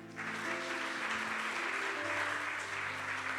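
A church congregation breaks into loud sustained applause, a dense wash of many hands clapping close and steady, with a faint voice or instrumental tone lingering underneath.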